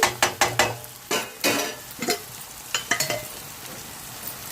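Onions fry soft in a pan for a salted ribbon fish and egg curry, heard as uneven bursts of spatula scraping and stirring over a light sizzle, close by and without any talking.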